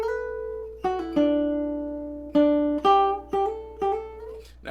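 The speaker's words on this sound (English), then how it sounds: "Now, we're going to add this little melody on top," Fingerstyle guitar melody from a song: clean, close plucked single notes in a slow phrase, each ringing out before the next, played alone over a low steady hum.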